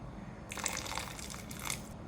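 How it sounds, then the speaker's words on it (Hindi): Water spills into butter chicken sauce in a pan, a faint wet, sizzling splash lasting about a second and a half, heard alone at low volume. "फोर टेबल स्पून पानी डालूंगी इसमें।"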